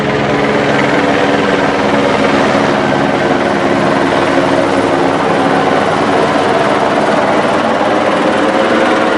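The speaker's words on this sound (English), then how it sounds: "got this chopper coming over here, like so" Helicopter flying directly overhead, its loud, steady rotor and engine roar filling the whole stretch without letup, close and unbroken with no voices.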